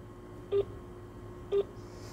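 A mobile phone call that will not connect, heard as two short, identical electronic tones about one second apart over a faint steady hum, quiet and close, with no voices.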